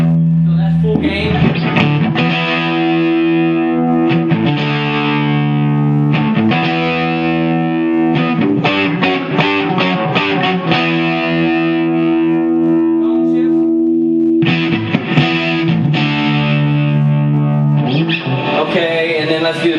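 Loud, heavily distorted electric guitar through a Marshall TSL amp at full gain, chords ringing out with thick saturated sustain and short breaks between strums, with no voices.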